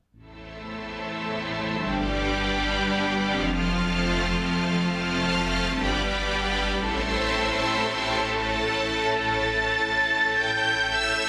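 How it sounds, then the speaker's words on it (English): Sustained synthesized string pad swelling in and holding rich, layered chords, steady and fairly loud, with no voices. "do some really amazing string sounds like this one"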